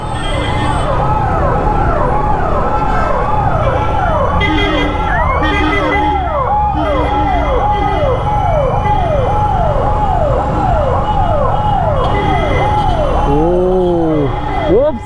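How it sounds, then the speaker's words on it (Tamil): An ambulance siren wails continuously in heavy city traffic in Coimbatore, its rising and falling sweeps loud and close throughout, with engine and road noise underneath and a brief horn-like warble near the end. "யாருமே ஆம்புலன்ஸுக்கு வழியே விட மாட்டேங்கிறாங்க."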